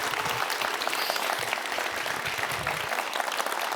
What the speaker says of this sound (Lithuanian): buvo prieš 9 metus audringi plojimai